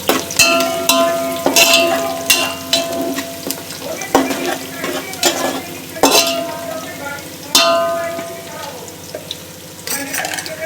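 Onion frying and browning in a pan for masale bhat, a steady sizzle with repeated scraping strokes of a spoon stirring against the pan, close and fairly loud, no voices.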